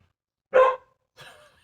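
A dog barks twice outdoors near a garage while playing with a ball: one sharp, close bark, then a softer, shorter one after a brief silence.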